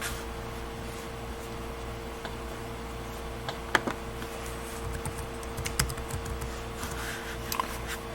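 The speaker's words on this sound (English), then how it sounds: "now I'm going to type in ipconfig again" Typing on a computer keyboard while entering a network command, a soft continuous patter of keystrokes with a few sharper clicks, close and fairly quiet, no talking.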